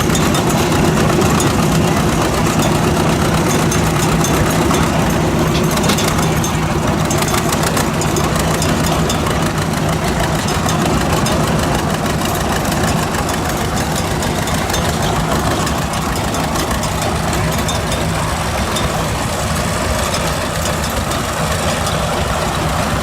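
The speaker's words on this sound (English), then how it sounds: "Little hill there puts a lot of strain on the tractor." A John Deere 8-series tractor labours up a small hill, its heavy diesel engine holding a steady, loud, low drone that stays close and continuous throughout with no pauses.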